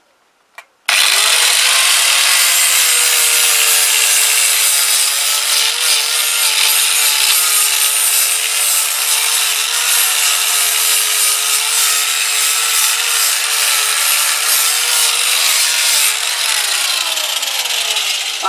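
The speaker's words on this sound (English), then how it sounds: "just got to tickle that up with a sander as well now" A power sander runs continuously on a Keeway RKV125 motorcycle rear-end part, a loud, steady whirring grind with slight pitch wavering throughout and winding down at the end, no speech.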